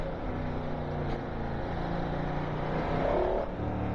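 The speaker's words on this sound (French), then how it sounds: "Il a mis un coup de gaz. Alors le son du V4 il est top aussi." A Ducati Diavel 1260 S (2021) V4 engine revs under a blip of the throttle, giving a steady mid-loud drone that swells toward the end, heard fairly near with no talk over it.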